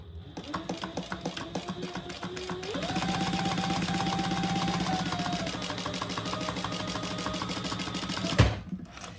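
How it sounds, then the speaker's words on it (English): Sewing machine stitching fabric for a clutch wallet, a close, fast rhythmic needle chatter that speeds up to a steady whir, then stops with a thump near the end. "now I'm just going to sew along that"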